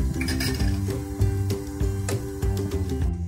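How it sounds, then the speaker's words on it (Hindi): A spoon stirs cardamom powder into boiled milk in a pot, making repeated close metallic clinks and taps against the vessel in an uneven rhythm. "अब इसमें हम ऐड कर देंगे इलायची पाउडर। अच्छी तरह से इसको हम मिक्स कर लेंगे।"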